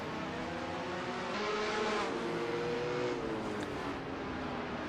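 Touring race cars from a 1970 championship round in Buenos Aires brake hard into a hairpin, their engines a steady loud drone that swells and shifts pitch as they pass close by, with no voices over it.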